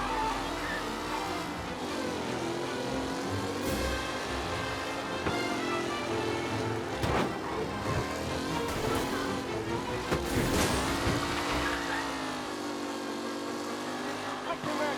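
Race cars roar past in the Mafia Definitive Edition video game, engines droning continuously and loud with rising and falling pitch, under music and a commentator's voice.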